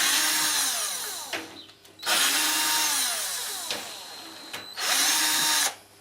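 A power drill backs out the three screws holding the drain pump in a Beko WMA520W washing machine, running in three loud whirring bursts of about a second and a half each, separated by short pauses.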